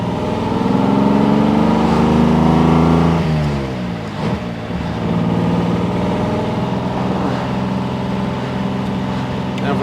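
A 1957 AC Ace Bristol's engine pulling through the gears to cruising speed, heard from the passenger seat, a steady droning roar that drops in pitch at a shift and then settles into an even cruise.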